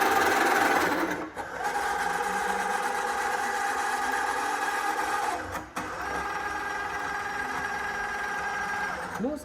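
A CNC engraving machine travelling along its axes gives a loud, steady mechanical whine with layered whirring tones, briefly dipping twice as it changes direction, close by and without talk.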